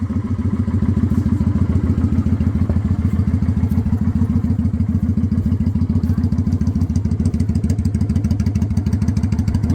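Motorcycle engine running steadily and loudly throughout while being ridden, a continuous deep rhythmic throb with clattery mechanical texture and no pauses.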